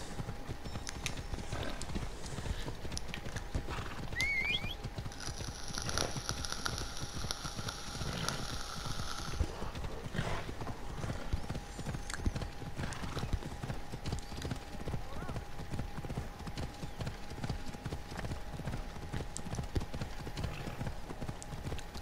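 Rhythmic clip-clop of galloping horse hooves in the video game Assassin's Creed Odyssey runs steadily throughout, with a horse's whinny partway through over a constant low hum, game-like ambience.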